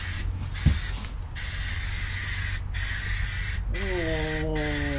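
An aerosol can sprays undercoating onto a 1987 GMC truck, a close, loud hissing spray in several bursts with brief gaps between them, while someone speaks and makes a wavering vocal sound near the end.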